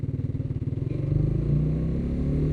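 Honda RS150R motorcycle engine idling with a rapid pulsing putter, then revving up into a steadier louder drone, close by.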